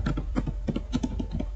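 A computer keyboard is typed on to enter a command at a command prompt, a quick close run of about a dozen distinct key clicks in an uneven rhythm.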